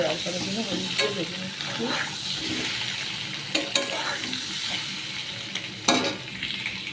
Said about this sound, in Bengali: এবার ভেজে নেবো হালকা করে ডিমটাকে